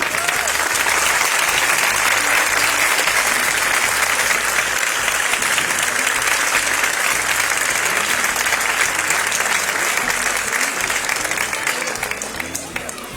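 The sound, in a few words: audience applause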